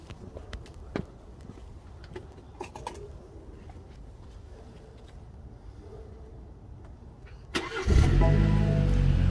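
A car with a dashboard brake-accumulator warning fails to start. After quiet outdoor ambience with birds chirping, the engine cranks loudly and steadily close by.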